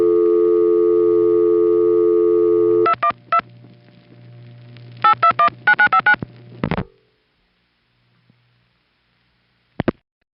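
Telephone call signalling through a Crossbar 5 switch, recorded on a 1977 tape: a steady dial tone, then bursts of clipped multi-frequency tone pulses, followed by near silence and one last short tone burst.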